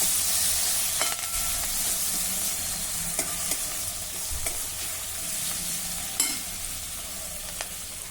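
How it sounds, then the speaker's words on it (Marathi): Tomato and red chilli powder are stirred in a frying pan, a continuous close sizzle with occasional sharp scrapes and clicks of the spoon against the pan. "आता हे सर्व छान मिक्स करून घेऊ।"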